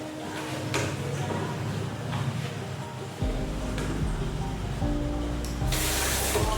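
Running water rinses a human hair wig after a sponge wash with moisture shampoo, a steady close splashing spray that gets heavier and fuller partway through and brightens toward the end.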